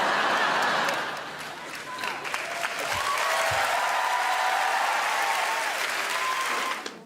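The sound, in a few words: audience applause at a comedy show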